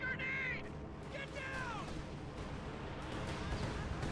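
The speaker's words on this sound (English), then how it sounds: "Katyusha firing at said Rakettenwerfer." Katyusha rocket artillery fires in a World War II strategy video game match, with whooshing, whistling rocket launches and rumbling impacts heard close and loud, under ongoing game noise and a voice talking.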